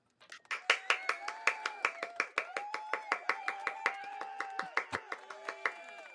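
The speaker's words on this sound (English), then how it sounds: "Let me get my real applause here." A canned applause effect plays on a livestream, with crisp, evenly spaced claps in a steady rhythm, close and fairly quiet, alone without talk.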